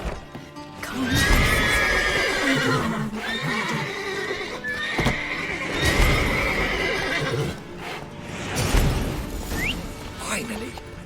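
Horses neighing and whinnying repeatedly in The Witcher 3 game, loud and close, several overlapping calls with clip-clop of hooves and game speech mixed in.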